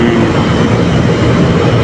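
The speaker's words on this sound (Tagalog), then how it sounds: "So okay yung kanyang fan motor." An air conditioner's fan motor runs during testing on a unit with a burnt compressor wire. It gives a loud, steady whooshing drone with no break and no voices.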